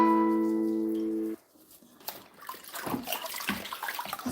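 Beetroot rinsed under a running kitchen tap, an even stream of splashing and sloshing water after a brief steady tone at the start, close and moderately loud with no talking.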